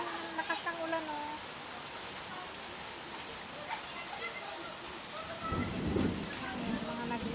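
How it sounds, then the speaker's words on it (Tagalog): Heavy rain pours down outdoors as a steady broadband wash that runs throughout, with people talking over it and a brief louder patch near the end. "Kita nang lakas ng ulan, oh."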